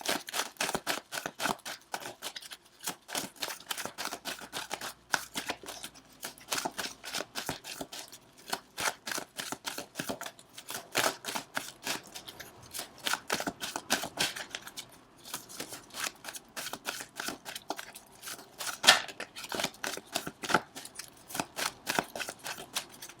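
Tarot cards are shuffled over and over, close to the microphone, in rapid crisp riffling bursts with brief pauses between them for a long stretch, with no talking.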